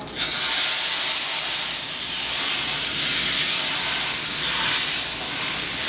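Loud, steady sizzling hiss of whole cumin seeds frying in hot oil for dal, close up, swelling and easing slightly throughout with no talking.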